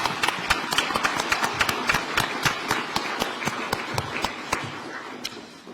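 An audience at a speech by SK chairman Chey Tae-won claps: sharp, distinct hand claps in a fairly regular, fast rhythm, loud and close, gradually thinning out toward the end, with no talking over them.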